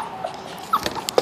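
A puppy whimpers and cries in short, high, thin yelps, several soft whines spread over a second, close by and fairly faint, with no talk.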